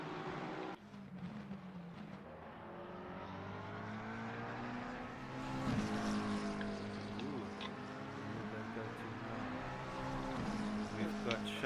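Racing car engines from a sim racing game, with two Ferraris and two McLarens dueling on track, give a steady layered drone of several engines whose pitches rise and fall as cars chase each other, loud and continuous under commentary.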